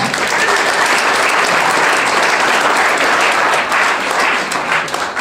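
A crowd applauds at a sports team's squad numbers launch, the clapping steady and loud throughout with no pause.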